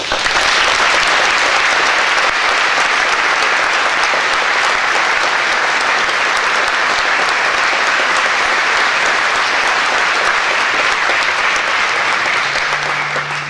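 Sustained, loud audience applause at a breakfast event as a 19-year-old speaker is introduced, a dense and even wall of clapping from a large crowd that continues steadily for over thirteen seconds.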